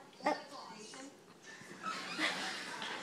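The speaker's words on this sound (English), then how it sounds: "This is my puppy, Chobi." A young puppy, about five and a half months old, whimpers and gives short yips indoors, close and fairly soft, with a person talking over it.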